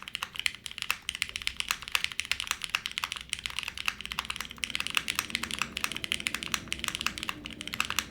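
Rapid, steady typing on an F1 8x custom mechanical keyboard built with a half plate and a tuned spacebar, dense clacky keystrokes close up for the whole stretch with no talking.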